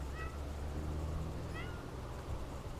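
A white cat gives two short, faint meows outdoors, spaced about a second and a half apart, over a steady low rumble of background noise.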